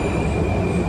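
Prague metro train rumbles loudly and steadily with rail noise and a faint high whine, continuous throughout with no talk.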